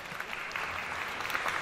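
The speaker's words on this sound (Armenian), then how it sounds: "Մարատ Հայրապետյան, ձեր ծափահարությունները" An audience at a concert-style show applauds for Marat Hayrapetyan, a dense, steady patter of many hands clapping throughout the short stretch.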